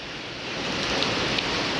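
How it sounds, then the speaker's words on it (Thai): Steady rain falling in a Thai village, a dense even hiss with a few faint drips standing out, continuous and fairly close throughout. "ดีใจได้ฝนตกแล้วพี่น้องเอ้ย"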